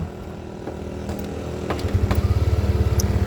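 A 2018–2019 Yamaha Aerox scooter engine runs close by, a low rhythmic putter that grows steadier and louder into a pulsing idle over a few seconds.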